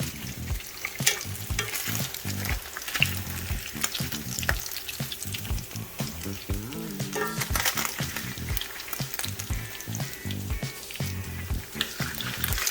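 Pork for carnitas fries in a pan, a dense, continuous crackling sizzle with constant popping, heard up close with no voices over it.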